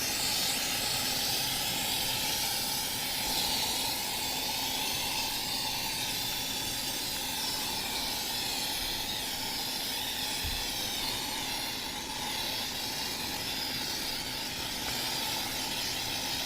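Fogger spraying insecticide into a yellowjacket nest, a continuous loud hiss with steady airy noise throughout and no talk.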